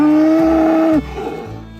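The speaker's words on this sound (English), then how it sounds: "Do you agree with these moos?" Dairy cattle on farmland letting out a single long, loud moo lasting about a second, followed by a quieter lowing tail and faint background noise.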